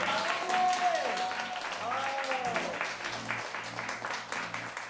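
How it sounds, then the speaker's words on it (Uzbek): A class applauds a student for taking first place in an exam, a spread of clapping that runs under speech and a tonal sound effect. "Qarsaklar."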